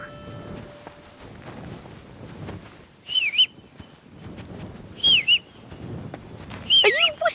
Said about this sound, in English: Are you whistling at me?